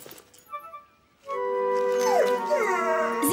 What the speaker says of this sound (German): Er ist nur ein Hund. Ein Rettungshund.